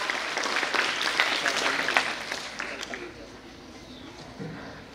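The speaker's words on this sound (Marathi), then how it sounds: "जोरदार टाळ्या झाला पाहिजे विद्यार्थी मित्रांनो" Applause from an audience at a school career-guidance event, a burst of clapping that swells early and then tapers off over a few seconds, with a voice speaking over it.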